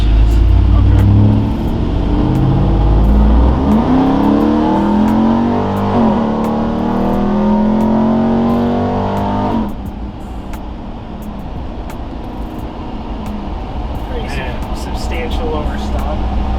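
A Hellcat-upgraded 2021 Ram TRX with a leveling kit revs its engine, a loud deep rumble climbing in pitch then dropping back to a lower idle drone, with people talking over it.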